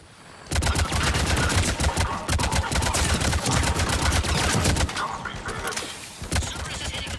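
Heavy sustained gunfire rakes an escape pod in the sci-fi game Mass Effect 3, a dense, loud barrage of rapid impacts lasting about four seconds, then easing into scattered hits and rumble.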